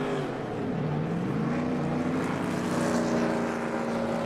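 Race car engines in a racing video game drone steadily with rising and shifting pitch, a continuous loud roar of several cars running together with no talking.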